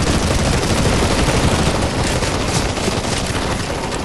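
Dense, continuous gunfire fills a round of the CS:GO zombie escape mod on the map ze_tyranny2_v1_csgo2, with many weapons firing at once into a loud, unbroken wall of shots throughout, with no talking.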